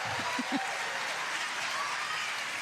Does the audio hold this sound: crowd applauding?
yes